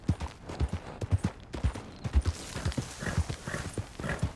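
Horse hooves pound in a steady galloping rhythm in a video game, loud and close, with a whinny and scattered game noise.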